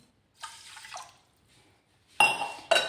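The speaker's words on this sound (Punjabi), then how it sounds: "ਡੇਢ ਕੌਲੀ ਪਾਵਾਂਗੇ ਪਾਣੀ ਦੀ" Water splashes into a pan in short bursts: one brief pour, a pause, then two louder splashy pours close by.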